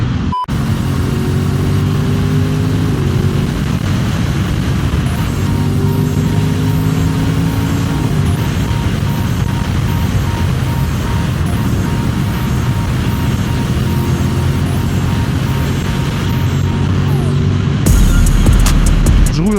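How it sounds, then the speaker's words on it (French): A motorcycle engine drones steadily while riding on a road, rising in pitch through several gear shifts under heavy wind rush, with a loud buffeting thump near the end. "On est en moto quand même"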